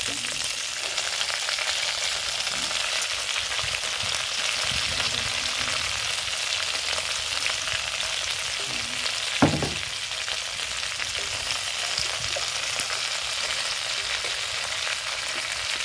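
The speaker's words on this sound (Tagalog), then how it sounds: "ilalagay ko na nga po itong mga nugasan kong kangkong at takway" Washed water spinach and taro stalks hit a hot pan for adobo, setting off a loud, steady, broadband sizzle that holds throughout, with a single sharp clatter near the middle and no talking.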